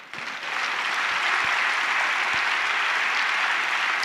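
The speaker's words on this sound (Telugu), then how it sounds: "అందరి దేవునికి ఒకసారి గట్టిగా చప్పట్లు కొడదాం" A church congregation at the Warangal Vijayothsavalu 2025 gathering claps in a dense, steady burst of applause that holds at full strength throughout.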